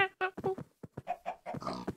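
A run of short Minecraft pig grunts and squeals in quick succession, close and fairly loud, with brief gaps between bursts.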